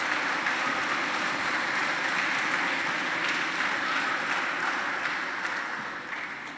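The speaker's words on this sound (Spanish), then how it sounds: "Un aplauso para los visitantes," Congregation at a solemn Sunday Mass applauding visitors, steady dense clapping filling the church at full strength, then easing slightly toward the end.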